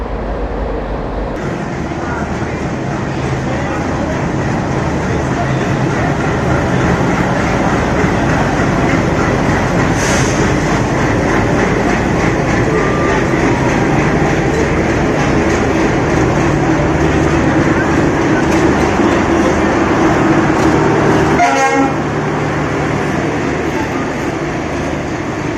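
The Swarna Jayanti Rajdhani Express running along the track, a loud, steady rumble and rattle of the wagons that carries on unbroken. A brief horn-like blare rises above it near the end.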